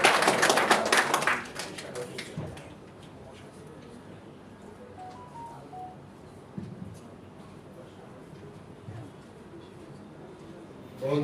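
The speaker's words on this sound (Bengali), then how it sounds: "করতালি।" An audience at an awards ceremony claps in a short burst of applause that fades within about two seconds, followed by quiet room tone with a person talking.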